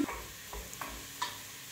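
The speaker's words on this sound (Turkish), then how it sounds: "O biraz kavrulsun o zaman." Bulgur and lentils roast in a pan for mahluta soup, a quiet soft sizzle broken by a few scraping stirs of a spoon against the pan.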